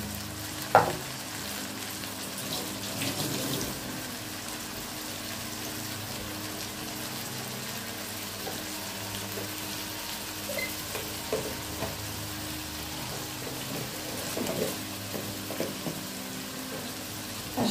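Ground tomato and green chilli paste fry steadily in a pan for a prawn curry, a continuous sizzle with scraping stir strokes and a sharp clink near the start, close and even throughout.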